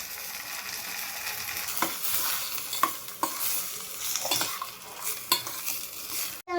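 Soaked rice for biryani is stirred in a sizzling pot, with repeated clinks and scrapes of a utensil against metal over a steady frying hiss.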